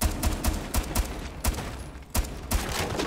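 Rapid gunfire from Tachanka in Rainbow Six Siege, a video game, comes as a dense burst of sharp, loud shots in quick irregular succession with no talk.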